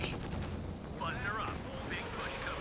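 A tank video game artillery barrage rumbles as a continuous dense roar of distant impacts and gunfire, steady and loud throughout, beneath a commentator's voice.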